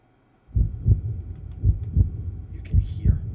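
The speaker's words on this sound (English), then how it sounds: "You can hear that heartbeat." Steady heartbeat in a tabletop roleplaying session, heard alone as loud, close double thumps repeating in an even rhythm after a moment of quiet.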